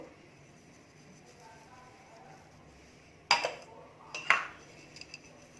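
Metal utensil clinks and scrapes against a pan as gond laddoo ingredients are mixed (flour, sugar, makhana, edible gum, melon seeds, cardamom powder), two sharp bursts after a quiet start, close and faint.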